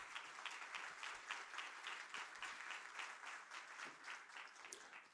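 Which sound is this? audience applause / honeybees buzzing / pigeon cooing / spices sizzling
audience applause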